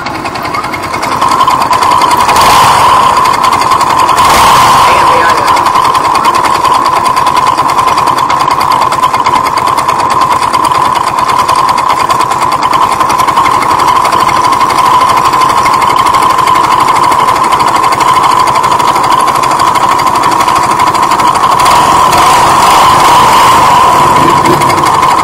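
A Yamaha Nouvo 6 motorbike engine runs steadily and loudly, with a constant buzzing, rattly drone throughout and a couple of brief surges, heard up close with no talking.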